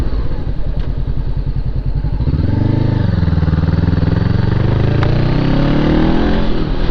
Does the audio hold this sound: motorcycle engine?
yes